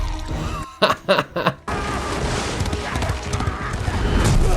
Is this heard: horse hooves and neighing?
yes